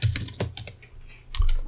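Rapid keystrokes on a computer keyboard while entering code for a first-person game in Unity, a close, crisp burst of clicks followed by a pause and a final louder cluster of taps.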